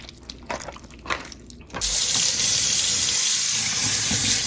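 Tap water runs steadily into a sink while scallops are washed for a garlic scallop dish, a loud continuous splashing gush that starts abruptly after a quiet stretch of faint handling sounds.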